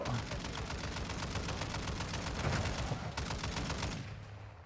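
Rapid, sustained automatic gunfire in a shooting video game, dense rhythmic bursts with a few brief pauses, loud and close, ending abruptly.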